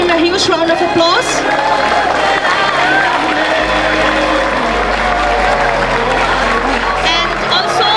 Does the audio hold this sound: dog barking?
no